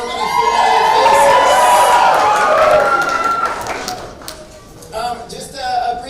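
A school audience at a community school's stage production cheers and shouts loudly, with children's voices prominent, a dense sustained roar that tapers off into scattered calls and claps.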